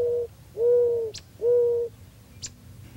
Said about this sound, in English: Here's the classic wild dove of North America.